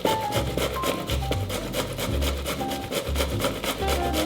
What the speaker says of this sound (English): I've never grated tomatoes.